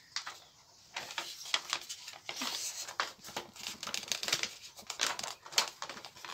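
Paper being creased and folded into an origami fish, giving a steady run of close crinkling and rustling with soft pressing scrapes throughout, no voice.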